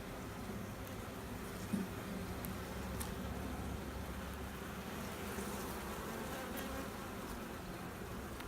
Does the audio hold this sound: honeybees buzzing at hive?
yes